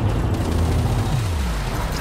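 Spaceship guns fire in the video game Elite: Dangerous, a loud dense rumbling barrage of rapid shots and blasts that fills the whole short stretch.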